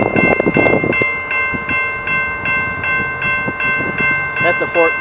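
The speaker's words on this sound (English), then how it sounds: "That's the four car train like the other one was." A four-car Rail Runner passenger train rolls past close by with a steady rhythmic clatter of wheels, while a person talks over it.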